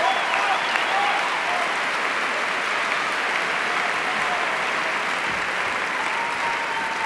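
At the 1988 BRIT Awards, an awards-show audience applauds a British Single win, a broad, steady roar of clapping that holds at full strength without a break.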